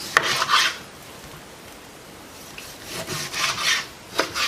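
A knife cuts beef tongue into small pieces on a board, heard as two close bursts of rasping, rubbing strokes separated by a quiet pause.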